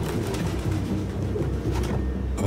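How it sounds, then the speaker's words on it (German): Pigeons coo in the Detroit: Become Human video game, a close, dense run of soft throaty calls repeating over a low rumbling background with no talk. "Aber gerade Tauben."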